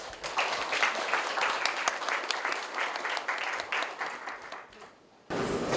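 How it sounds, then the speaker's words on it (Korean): An audience at a lecture applauds to welcome the speaker, a dense, steady wash of many hands clapping that thins briefly near the end before surging again. "뜨거운 박수 부탁드리겠습니다"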